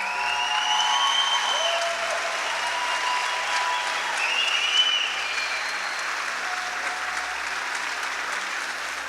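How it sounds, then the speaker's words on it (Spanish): An audience at a talk greets a speaker with steady, dense applause that holds strong for the whole stretch, with a few faint voices mixed in. "recibir con un fuerte aplauso a Juan Cruz Acuña"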